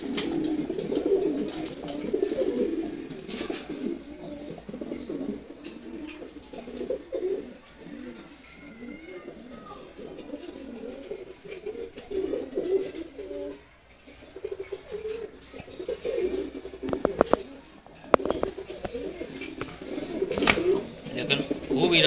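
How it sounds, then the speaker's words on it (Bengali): Large racer pigeons in a cage give low, repeated throaty coos that run nearly throughout, alongside wing flutters and sharp rustling clicks against the wire and occasional quiet talk. "বিগ সাইজ কবুতর, রাগও প্রচুর।"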